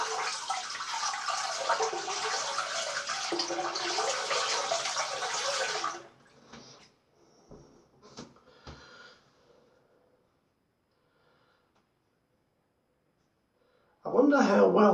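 Gillette 1969 safety razor rinsed under a running tap: about six seconds of steady splashing water, then a few brief clinks and taps, a long near-silence, and a short burst of water again at the end.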